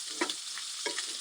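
Vegetables and smoked pork sauté in hot oil in a pan, a constant close sizzle broken by a few soft scraping stirs of a utensil.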